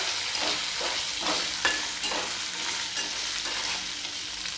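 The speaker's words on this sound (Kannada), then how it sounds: "ಇದು ಕುಟ್ಕೊಂಡು ಇಟ್ಕೊಂಡಿರೋ ಮಸಾಲೆನೂ ಇದ್ರೊಳಗೆ ಹಾಕೊಳ್ಳೋಣ. ಒಂದು ಸ್ವಲ್ಪ ಫ್ರೈ ಮಾಡ್ಕೋಬೇಕು." Ground masala paste for vada pav frying in a pan, a continuous close sizzle broken by several scraping stirs of a spatula, with no talking.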